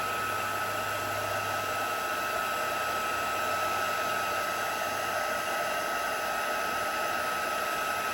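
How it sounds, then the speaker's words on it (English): An embossing heat tool blows a steady, continuous whir throughout as it melts embossing powder on a stamped card, close and unchanging with no talk. "So I'm heating this with my emboss tool"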